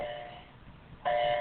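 A doorbell chimes twice, a bright sustained tone that fades and then rings again, clear against a quiet room.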